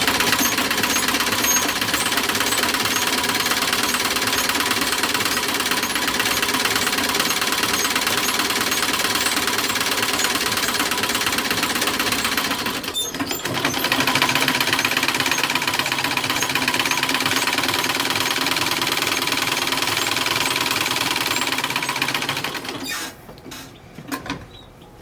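A 1907 sewing machine winds a bobbin with a steady close mechanical whirring hum, broken by a brief pause midway and slowing to a halt near the end.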